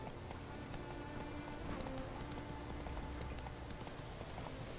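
Hooves of a galloping horse in The Witcher 3, a quick, steady clip-clop rhythm that runs continuously at moderate volume over a rumbling game background.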